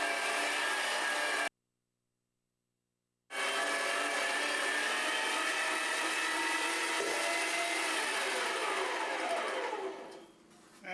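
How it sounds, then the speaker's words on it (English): An electric meat grinder, run from a foot switch, grinds chicken breast for Italian sausage with a steady, loud mechanical whir. It cuts out briefly for about two seconds, then runs on continuously and fades near the end. "Got my foot switch on my grinder."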